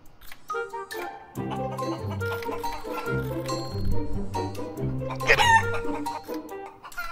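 Game chickens clucking and squawking loudly and close, in repeated bursts with a sharp crow-like cry near the end, cluttered by clinking effects.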